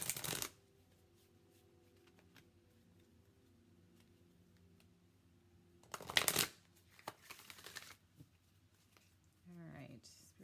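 A deck of Angel Guide oracle cards by Kyle Gray is shuffled close by: a quick riffle at the start, then a longer flurry of shuffling a few seconds later, with quiet between and a voice faintly at the end.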